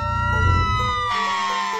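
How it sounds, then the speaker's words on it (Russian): A cartoon fire engine siren, a bright wavering electronic wail that rises and falls in steady tones over a busy musical backing, loud and close for under two seconds. "Я пожарная машина."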